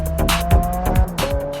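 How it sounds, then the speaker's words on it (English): A Lamborghini Aventador S corners hard with its tires squealing in rising and falling howls over a loud engine drone. "even with all four tires howling in protest"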